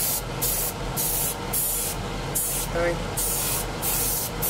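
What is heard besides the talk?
spray paint dusted onto model wings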